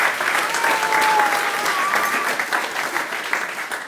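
Wedding guests applaud during the reception speeches, a lively burst of clapping from a medium-sized crowd that stays steady and then gradually thins, with a faint whistle rising briefly above it.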